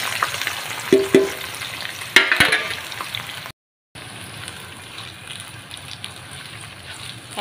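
Bitter gourd pieces fry in hot oil for an eggplant curry, giving a steady crackling sizzle with a few sharper spits and pops early on. A brief silent gap breaks the sound before a softer, even frying hiss resumes.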